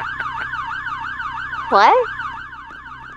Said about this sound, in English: the siren needs to stop, guys. Turn off your siren then.